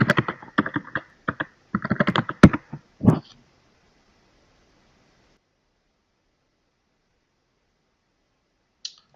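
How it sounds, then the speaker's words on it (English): A search is typed on a computer keyboard in quick bursts of close, crisp key clicks for about three seconds. Silence follows, and one faint click comes near the end. "just type in quit smoking again"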